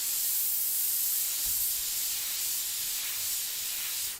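Airbrush spraying paint in a steady, continuous hiss of compressed air for about four seconds, close and even, cutting off at the end; used to lay gray-yellow color on a winter-scene portrait of a woman.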